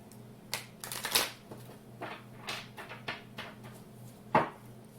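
Tarot cards riffle and slap softly in several short shuffling bursts, close but quiet, over a steady low hum, with no talking.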